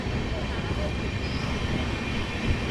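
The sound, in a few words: Digha Tamralipta Express train departing Uluberia station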